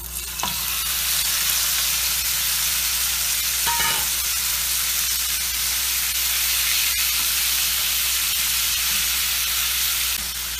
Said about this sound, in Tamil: ஆயில் வந்து நல்லா ஹீட் ஆயிடுச்சு இப்போ நான் வந்து நம்ம மேரினேட் பண்ணி வச்சுருக்கோம்னா ப்ரான் அதை அப்படியே ஆட் பண்ண போகிறேன்